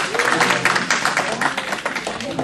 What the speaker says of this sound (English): give a round of applause if you woke up to an alarm clock this morning